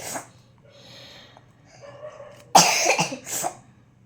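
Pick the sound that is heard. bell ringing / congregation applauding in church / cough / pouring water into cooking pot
cough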